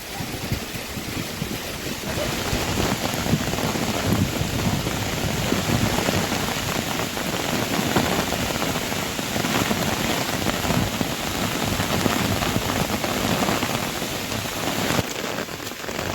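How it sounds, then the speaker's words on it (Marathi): Heavy, stormy rain in the Konkan pours steadily, a dense, loud hiss of drops drumming on surfaces throughout, with no voices. "एवढं मोठं पाऊस आहे बघा पाऊस हा"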